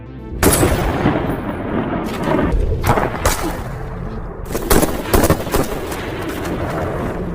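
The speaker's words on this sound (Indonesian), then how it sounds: "satu orang yang masih tersisa, berhasil menembak Tommy dari arah belakang." Gunfire in a film scene where a man is shot from behind: a series of loud, close shots and thuds, several sharp bursts over several seconds amid background noise.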